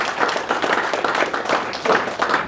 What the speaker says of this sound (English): Round of applause for the team